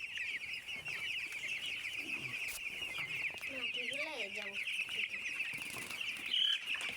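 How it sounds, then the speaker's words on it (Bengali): Broiler chicks in a poultry shed keep up a constant high chirping chorus, with a few lower clucks rising through the middle, close by and moderately loud. "এর মুরগির বাচ্চা পালন করি"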